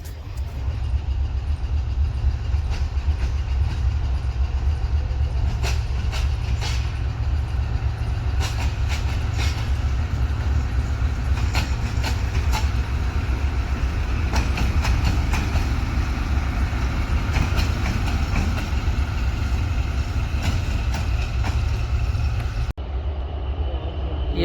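A train rumbles through Lahore Junction railway station, a loud, steady low roar with metallic clanks and rattles throughout, ending abruptly near the close.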